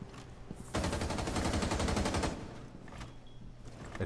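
Automatic gunfire in Rainbow Six Siege, one loud rapid burst lasting about a second and a half, then quieter room ambience with faint sounds.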